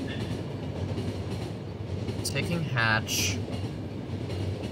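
Train rolling along the tracks in the video game The Final Station, a steady rumbling clatter throughout with a brief metallic squeal near the middle, while a person talks over it.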